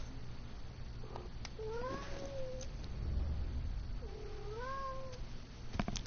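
A cat gives two distinct, drawn-out meows a few seconds apart, moderately clear over a low steady background hum, with faint clicks in between.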